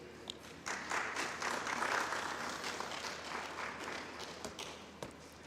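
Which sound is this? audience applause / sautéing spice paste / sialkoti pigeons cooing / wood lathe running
audience applause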